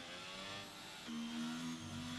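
In the F1 22 video game, an F1 race car at Australia's Grand Prix brakes hard, its engine note dropping and then a faint, sustained tonal whine cutting in, all quiet and without talk.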